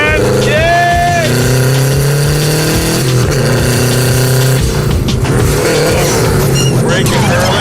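A car is driven hard around a track, its engine revving loud and close as it accelerates and climbs through the gears, with people talking over the roar inside the car.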